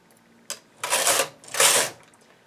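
A knitting machine works I-cord edging, with a short click followed by two loud whooshing carriage passes, close and clear with no talk.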